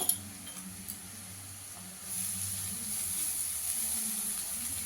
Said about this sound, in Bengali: নারকেলটা দিয়ে একটু ভেজে নেব